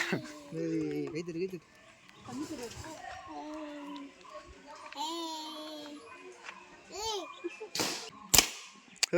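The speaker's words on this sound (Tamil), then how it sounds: "விஜயும் ஒரு பலூன் சுட்டுட்டான்" Sharp pops of balloons being shot with a gun ring out near the end, cutting through lively chatter and children's voices.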